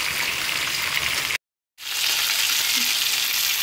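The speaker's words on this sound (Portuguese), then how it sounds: "E vou fazer sobrecoxa acebolada. Estou fritando na pele de porco," Chicken thighs fry in rendered pork fat, a loud, dense, continuous sizzle close up, broken by one short silent gap before the crackling resumes just as strong.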